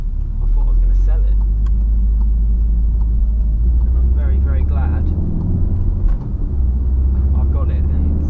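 A VW Golf R drives along with a deep, steady engine drone and road rumble inside the cabin, while someone talks over it for most of the stretch.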